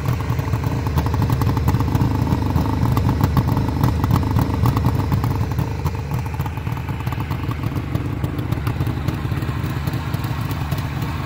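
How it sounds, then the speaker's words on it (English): A 1973 Suzuki GT550 motorcycle engine runs steadily up close, a rumbling, crackling exhaust note with mechanical clatter, holding a continuous throb throughout. "I think that's a sweet exhaust note."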